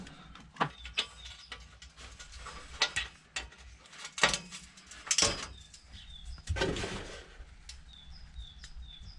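Ratchet loosening exhaust screws on a Volkswagen Golf 6 GTI, scattered clicking bursts and metallic rasps spaced a second or two apart, close and moderately loud, with birds chirping faintly in the background.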